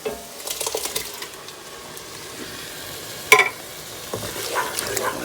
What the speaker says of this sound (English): now we're gonna add our 2 28-ounce cans of diced tomatoes, or crushed if you prefer